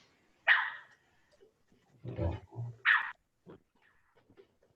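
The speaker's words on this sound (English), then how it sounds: "I just heard a bark and I think someone was responding" A Sony Aibo robot dog gives two short, sharp barks with low rumbling sounds between them, close by in a quiet room.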